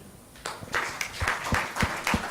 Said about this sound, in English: and a very good round of applause